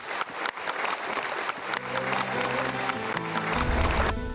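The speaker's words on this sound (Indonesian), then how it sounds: "Ya, kita berikan tepuk tangan." A seminar audience breaks into applause, scattered claps at first building into steady dense clapping, with music rising underneath toward the end.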